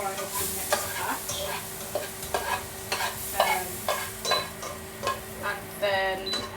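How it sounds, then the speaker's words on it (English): Mushrooms fry in a pan with a steady sizzle while a utensil stirs them in regular scraping strokes, close and clear, with no talking. "we'll start frying off the next batch"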